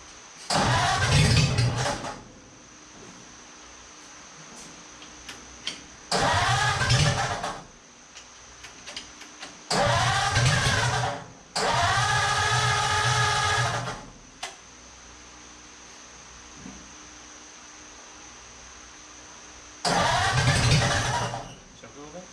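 A Coffee Break Roadster with carburetors needing adjustment cranks and fires repeatedly, five close bursts of starting and rough running separated by pauses, with people talking between attempts.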